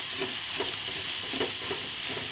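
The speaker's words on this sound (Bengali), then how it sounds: "সব কিছু দিয়ে ভালো করে নেড়ে চেড়ে নেব।" Ground spices and whole sesame seeds frying in a pan for potol bahar, a constant hiss of sizzling with rhythmic soft scrapes of a spatula stirring every half second or so, near and without speech.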